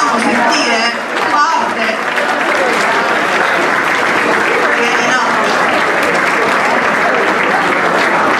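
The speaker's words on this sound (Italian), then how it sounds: "Un applauso alle donne, glielo facciamo uomini, glielo facciamo sentire." A crowd at a women's rights association event bursts into loud, dense applause that holds steady throughout, close and full, with a voice briefly heard over it at the start.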